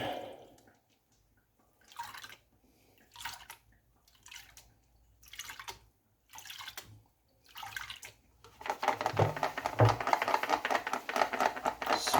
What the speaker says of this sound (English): you can really take your time panning